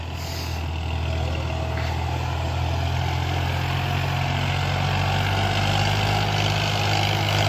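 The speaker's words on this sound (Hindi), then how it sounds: "अभी ट्रैक्टर की चाल जो है कौन सा गियर में चाल है वो दिखाएंगे" A heavy tractor engine running in first gear drones loudly and steadily nearby, a deep continuous rumble with a constant mechanical hum that holds throughout.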